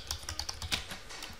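Quick, light keystrokes on a computer keyboard while configuring a network router interface, in an irregular rhythm of close, crisp clicks with no talk.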